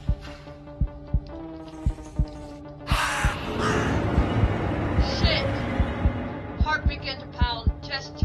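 A bird caws several times in the visual novel game Scottside, harsh calls set over a steady throbbing heartbeat and low hum, with a burst of rustling in the middle.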